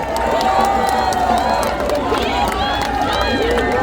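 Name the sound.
audience applause and cheering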